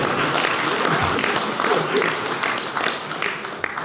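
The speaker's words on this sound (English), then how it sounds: "I think you guys ought to applaud" Applause and clapping from a crowd at an SC State athletics gathering, steady and fairly loud throughout, with voices mixed in.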